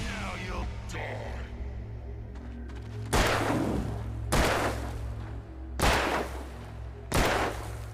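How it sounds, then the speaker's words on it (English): Four heavy gunshots from the video game Alan Wake ring out at spaced intervals, each a loud close blast with a decaying tail over a low steady background hum. "I'm just shooting a man."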